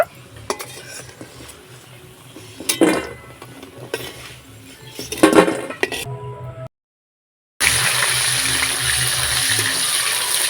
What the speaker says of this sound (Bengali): বড়িগুলোকে হালকা লাল লাল করে ভেজে নিয়েছি তুলে নেব